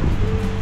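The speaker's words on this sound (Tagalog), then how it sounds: "ang lakas ng hangin dito" Strong wind blowing along a remote seaside shore, a dense low roar mixed with surf noise and buffeting against the microphone, steady and loud for under a second.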